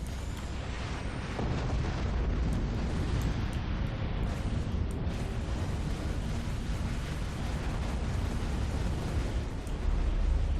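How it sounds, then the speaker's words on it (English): Torpedo explosions in the naval combat video game Dreadnought form a heavy, continuous booming rumble, dense and loud throughout, with no speech over it. "I'm going to fire the torpedoes at him."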